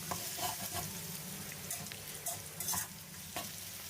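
Egg is stir-fried in a hot pan for Thai old-style soy sauce fried rice, sizzling steadily close up with repeated scraping stirs of the spatula.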